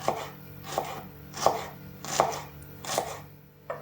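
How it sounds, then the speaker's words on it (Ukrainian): A knife slicing onions into thin strips on a cutting board, six crisp, evenly spaced chops close up, each a sharp knock against the board with no voices. "Чотири великі цибулі, або ось такі вісім, як у мене, розрізаємо і нарізаємо дрібною соломкою."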